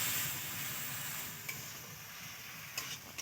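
Ginger-garlic and onion paste sizzles in a little oil as it is stirred for a pangas fish and potato curry, a steady fry hiss with a few soft scrapes and taps of the spoon.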